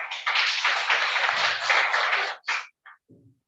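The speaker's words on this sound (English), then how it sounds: "Another round of applause." Audience applause at the close of a customer care workshop, a dense burst of many hands clapping for about two and a half seconds, then a few trailing claps fading out.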